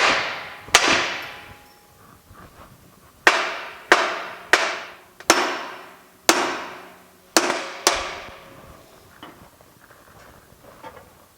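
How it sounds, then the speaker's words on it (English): A hammer strikes a rusted part stuck on a GMC Motorhome Eleganza, about ten sharp metallic bangs, close and loud, in irregular bursts with ringing decay after each hit and short pauses between. "I'm just going to tap this with a hammer"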